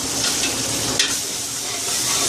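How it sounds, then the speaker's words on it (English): Ginger garlic paste sizzles steadily in a hot pan while being stirred, a continuous close frying hiss with a faint scrape of the spoon partway through and no voices. "Make sure you're just stirring it very well."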